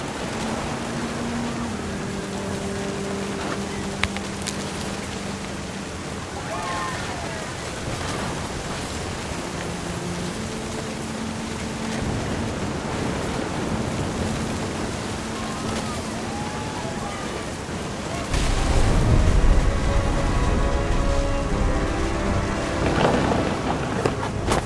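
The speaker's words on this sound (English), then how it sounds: "The thunder sounded much too close and full of angry power." Steady rain with rumbling thunder plays in the video game What Remains of Edith Finch. A soft melody runs through the first part, and then a loud, close thunderclap breaks in near the end.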